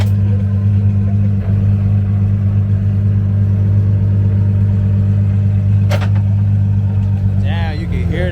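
A BMW engine drones loud and steady at close range as the car shifts through gears, a constant low hum with a brief rising whine near the end.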